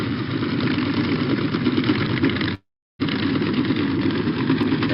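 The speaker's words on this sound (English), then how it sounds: "That's more the workboat, not the high-speed boat." A workboat engine, not a high-speed boat, runs with a steady, rumbling drone, loud and close, briefly cutting out before resuming.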